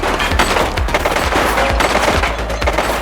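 Loud bursts of gunshots in the police video game The Precinct, rapid repeated cracks in quick succession with a deep low-end thump behind each volley.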